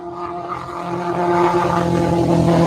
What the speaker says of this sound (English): Listen to this motorcycle.